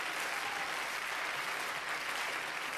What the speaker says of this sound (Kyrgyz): Азаматсыз кол чабуулар сизге.